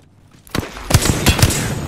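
Gunfire in the video game Apex Legends: a sudden loud burst of shots, then several sharp, spaced cracks ringing out over a dense, rumbling wash of battle noise.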